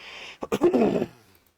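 A single rough, throaty burst, close by, followed by a lower rasping tail before fading to quiet.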